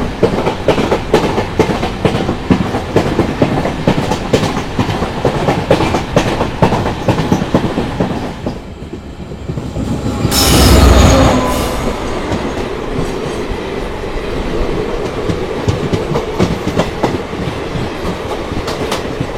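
The Vijayapura Yesvantpur Express rolls past close by, with a continuous loud rumble and rapid rhythmic clickety-clack of wheels over rail joints, a brief whooshing swell midway as cars pass, then steady clattering resumes.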